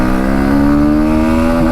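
A 2024 Bajaj Pulsar NS160 motorcycle accelerates hard, its loud, close engine note rising steadily in pitch without a break.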